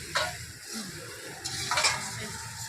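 Ground spice masala goes into a hot pan for chicken, with a steady sizzle, scattered utensil scrapes, and a louder burst of frying toward the end.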